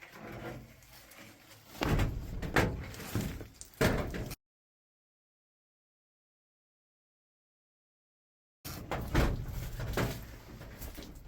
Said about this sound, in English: Door's closing on me.